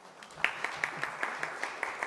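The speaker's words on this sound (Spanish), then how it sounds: "Un aplauso para Nax." A few people clap at an academic event at a geography institute, applauding a speaker; sparse, evenly spaced claps, fairly quiet and roomy, about nine in two seconds.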